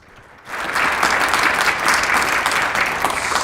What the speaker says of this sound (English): Can we get a round of applause for our panelists, please?